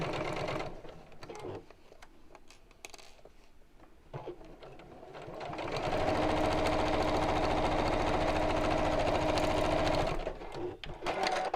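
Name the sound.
sewing machine stitching fabric envelope seam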